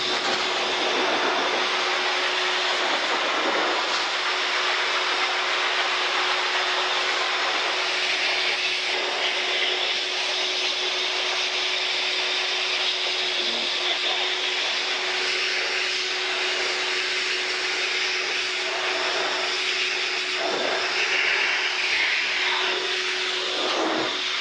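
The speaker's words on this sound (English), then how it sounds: "now I'm going to blow everything off" Compressed air blasts steadily to dry a freshly cleaned rubber tire, a loud continuous broadband hiss with a faint steady whine running through it, holding evenly for the whole stretch with no speech.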